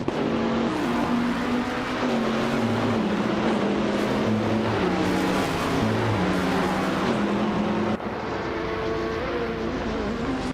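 A pack of race cars led by a 2010 Oreca FLM09 LMP3 prototype roars off the start at Curitiba, engines loud and sustained, pitch climbing and dropping through gearshifts as the field accelerates away, with no voices.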